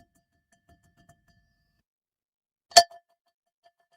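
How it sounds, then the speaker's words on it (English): A single bell strike rings out once, bright and metallic, fading quickly in an otherwise near-silent room. "The bell isn't coming through?"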